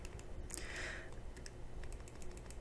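Quick plastic key presses on a calculator keypad while entering a function-operations problem, a close, quiet run of clicks at an uneven typing rhythm with no talk.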